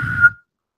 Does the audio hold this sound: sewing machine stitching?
no